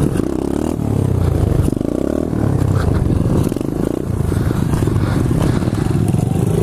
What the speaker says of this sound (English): The idle is like pretty high. Like, you can probably tell.